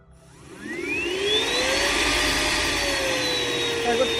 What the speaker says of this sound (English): Here's my vacuum.